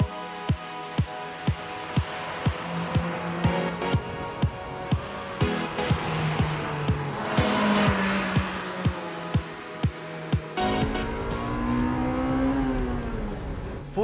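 A Honda Civic Type R EK9 engine revs up and settles again from inside the car, the note climbing and falling over a regular ticking pulse, fairly loud with no talk.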